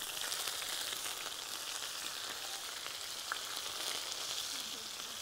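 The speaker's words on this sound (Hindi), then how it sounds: "ऑयल जो है वो हमारा गरम हो चुका है, तो अब हम इसमें डाल देते हैं प्याज जो मैंने 3 लिए थे।" Sliced onions hit hot oil in a pan and sizzle with a bright, dense crackle that holds steady and close throughout, with no voices over it.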